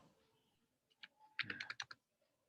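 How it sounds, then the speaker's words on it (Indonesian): Typing on a computer keyboard during a computing class, a short burst of crisp key clicks in quick uneven rhythm after a few isolated taps, close and alone. "Kita harus ngetik lama ini."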